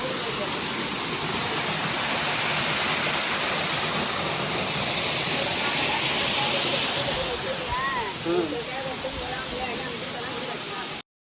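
A large waterfall at Mallem Gundam in the Nallamala forest roars continuously as a dense, steady wash of rushing water, loud and unbroken throughout, with faint voices briefly audible near the end.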